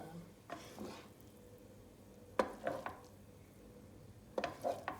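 A spoon stirring cooked rice pilaf with vermicelli in a pot, a few soft scraping and clinking passes in separate bursts, close up and quiet.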